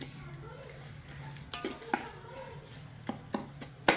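Biryani masala and chili powder stirring in hot oil in a pan: a soft sizzle underneath with scattered sharp clinks and scrapes of a spoon against the pan, fairly quiet and close.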